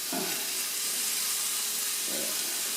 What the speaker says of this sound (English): So we'll let that brown down here a little bit.